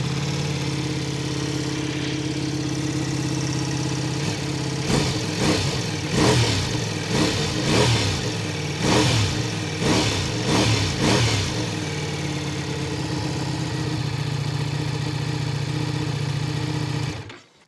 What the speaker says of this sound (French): le bruit de la moto, je te fais écouter